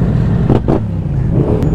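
An R7 sport motorcycle with its baffles removed and a full decat exhaust rumbles steadily up close, with a couple of sharp throttle blips rising above the deep engine drone.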